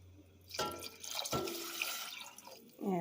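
Tap water runs into a cooking pot for Tuscan bean soup, a steady rushing splash close by that continues for a few seconds under a brief voice at the end.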